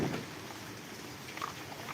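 Heavy rain pours down in Mangadh village, Gujarat, as a steady broadband wash with a few scattered splashes and patters. No one speaks.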